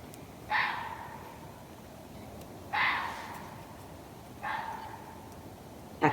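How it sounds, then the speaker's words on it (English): A wild fox, of a kind heard in Minnesota, gives three short, rasping calls spaced a couple of seconds apart, moderately loud over a steady hiss of outdoor background noise. "The answer is a fox. That's the sound a fox makes."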